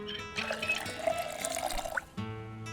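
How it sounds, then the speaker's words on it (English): Water bottles are filled in the game Project Zomboid, with a continuous trickling pour lasting nearly two seconds that rises slightly toward the end, set against a low background hum. "we'll fill both these water bottles back up"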